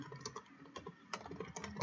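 Quick, uneven keystrokes on a computer keyboard while working on a WordPress website, with clustered clicks and brief pauses, close and fairly quiet, with no talking.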